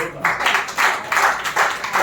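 An audience at an International Women's Day ceremony at a national broadcasting head office claps in rhythmic, evenly spaced bursts about twice a second, loud and close.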